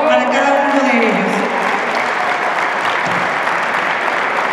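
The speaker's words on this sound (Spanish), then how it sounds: "Un aplauso fuerte, por favor, para cada uno de ellos." An audience at a Teachers' Day celebration gives sustained, dense applause to teachers honored for 30 years of service, steady and loud throughout, with a voice briefly audible over it at the start.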